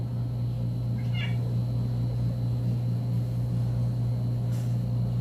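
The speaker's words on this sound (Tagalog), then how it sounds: "Stray cat yan siya guys." A stray cat kept as a pet gives one short meow partway through, moderately close. A steady low hum runs underneath throughout, with no talking.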